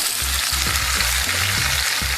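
Onion, tomato, okra and green chili fry in hot oil after mustard seeds pop, giving a steady loud sizzle with soft stirring scrapes underneath, and no voices.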